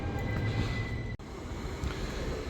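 A train idles at a railway station platform, its steady low rumble and hum running throughout with a brief dip partway through, heard alone with no voices.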